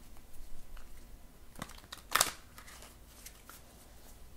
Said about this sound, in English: not easy to shuffle new cards